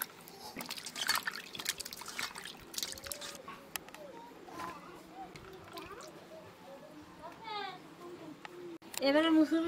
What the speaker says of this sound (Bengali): আলুটা ধুয়ে নেব